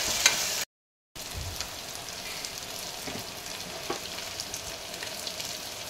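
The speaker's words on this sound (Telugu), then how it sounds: "కొత్తిమీర కూడా తాలింపులోనే వేసేయాలి." Fresh coriander sizzling in hot tempering oil for dal khichdi, a steady broadband frying hiss with small crackles, cut by a brief silent gap near the start before the sizzle resumes.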